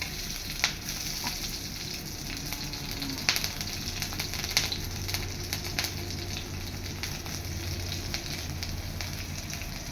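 Spices fry in hot oil in a pan with a continuous close crackling sizzle, punctuated by occasional spatula clicks and taps as they are stirred, steady throughout with no talking.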